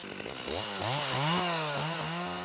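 A chainsaw revs up and bogs down in cuts while felling large trees over 30 cm across in a Korean national forest, loud and close with a rising and falling engine whine.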